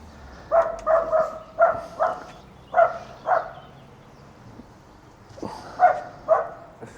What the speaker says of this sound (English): I can hear your puppy already.